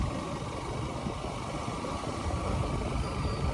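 A motorbike engine drones steadily while riding, with constant low rumble and road noise and no pauses.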